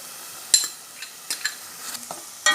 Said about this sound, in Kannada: ಹಸಿ ವಾಸನೆ ಹೋಗೋ ತನಕ ಫ್ರೈ ಮಾಡುವ